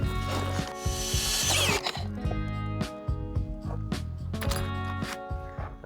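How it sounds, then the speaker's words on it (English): A drill-driven hole saw bores through pine panelling in a van, a loud, uneven grinding whir broken by catches, stalls and knocks as the saw bites into the wood. "We'll take this and cut that out. Hole saw is a really handy tool."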